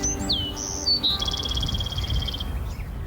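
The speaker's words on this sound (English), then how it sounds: "you can hear the birds chirping in the trees." Birds chirp and whistle nearby in short rising and falling calls, with a soft outdoor rumble underneath.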